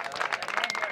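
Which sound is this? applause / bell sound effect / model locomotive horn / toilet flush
applause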